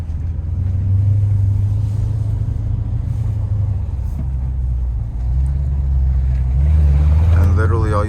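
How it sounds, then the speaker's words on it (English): Deep, steady exhaust rumble from a 2020 Dodge Challenger 392 Scat Pack while driving, a low continuous drone that swells toward the end with some rising revs. "really nice sounding exhaust"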